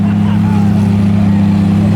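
Loud, steady exhaust drone from a modified old-shape Lamborghini Aventador with aftermarket exhaust, new bonnet, lowered side skirts and a big wing, holding a constant deep rumble close by with no clear revving.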